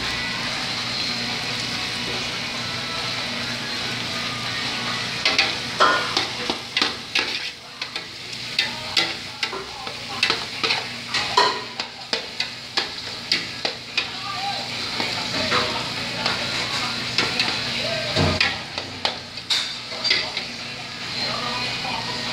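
Chopped parsley and chives stirred in a sizzling pan for shrimp broth, steady frying hiss with repeated scraping spoon strokes.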